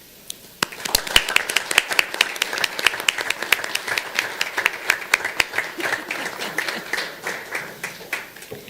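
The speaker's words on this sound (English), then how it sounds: "Please join me in offering a round of applause for the accomplishments of the Layton City Youth Council" An audience at a city council meeting gives a round of applause, starting with a few sharp claps and swelling into steady, moderately close clapping that slowly thins out, with no talk.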